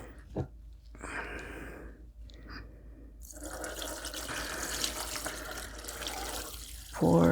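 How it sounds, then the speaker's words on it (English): Elderberry tincture is poured through cheesecloth for straining, giving a steady liquid trickle and splashing with a few faint handling knocks, then a louder burst of pouring near the end. "Pour it into the cheesecloth."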